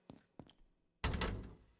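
In the video game Abiotic Factor, a locked door gives two short knocking taps followed by a loud rattling thud and shake as it refuses to open, heard up close without talk.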